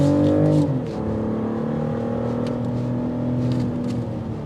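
A 2025 BMW X6 xDrive40i SUV engine roars steadily and loudly up close, its tone shifting as it pulls hard under acceleration, with no voices.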